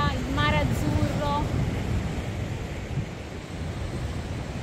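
Ocean surf breaks and rushes onto a black sand beach in Sicily as a steady, broad roar with wind buffeting the microphone. A voice is briefly heard at the start.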